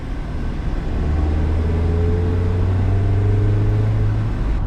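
A Mazda MX-5 Miata ND2 Club's naturally aspirated engine drones loudly from inside the cabin, a steady low rumble with a rising engine note under constant road noise.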